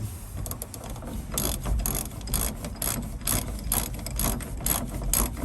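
A hand ratchet snugs up the bolts on a Kia K10 driver's door, giving rapid, close clicking strokes in a steady repeating rhythm over a low background rumble.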